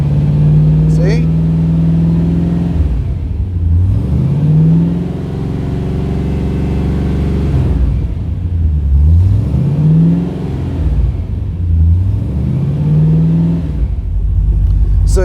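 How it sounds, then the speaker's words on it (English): A car engine rises from a low idle into repeated throttle revs, the pitch sweeping up and falling back in several waves, loud and close, with someone talking over it. "But if I give some throttle, you will see how funny it's going to act up."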